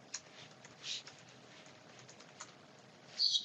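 Computer keyboard typing, a few faint, scattered keystrokes close by in a quiet room, ending in a slightly louder short burst.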